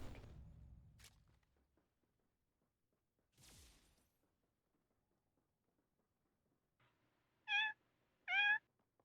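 A person imitates a cat with two short, loud, tonal meows close together near the end, after a stretch of mostly quiet with a few faint thumps and rustles.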